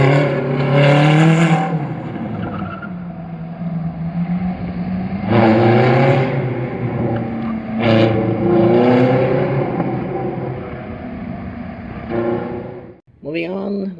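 A Ferrari 430 engine at an autocross event revs loudly and repeatedly, rising and falling in throaty bursts before cutting off abruptly near the end.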